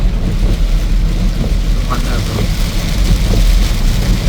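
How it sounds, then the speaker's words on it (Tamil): Heavy rain pours steadily during a storm over a road in Jaffna, a dense unbroken roar of falling water with low rumble and no pauses throughout. "என்ன மழைன்னு பாருங்க"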